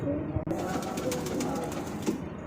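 Malwai Punjabi pigeons coo in a continuous low murmur throughout, the flock close and steady with no talk over it.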